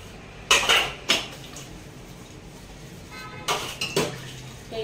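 Dishes, pots and pans being washed by hand in a home kitchen, with loud clattering bursts of metal and cutlery knocking together over a steady background rush of running water.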